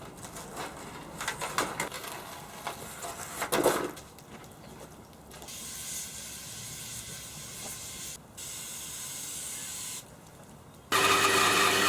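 Water hose spraying onto burnt, charred timber specimens from a fire test, a steady hiss that cuts in and out in several bursts, close and fairly loud, with no talking.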